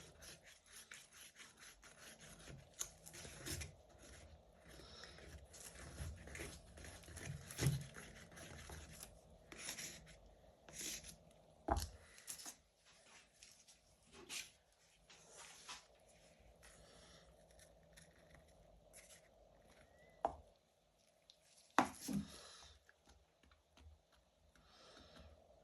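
Jesmonite AC100 being stirred by hand in a container, a steady scraping and rubbing of the mixing tool against the walls that continues in irregular strokes for the whole stretch, with a few sharper knocks.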